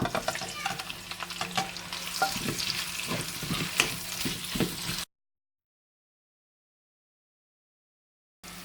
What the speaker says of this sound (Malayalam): ചൂടായ എണ്ണയിലേക്ക് സവോള ഇട്ട് വഴറ്റുക.